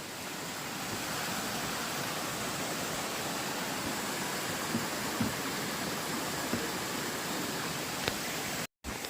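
Steady rushing of flowing creek water, a constant broadband wash at moderate volume with a few faint clicks and a brief dropout near the end.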